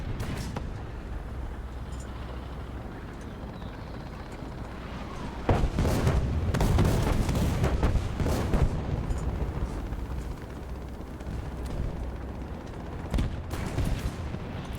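A Nashorn tank destroyer fires in the real-time strategy game Dying Breed, with heavy booming blasts clustered in the middle and another near the end, over a steady low rumble of battlefield ambience.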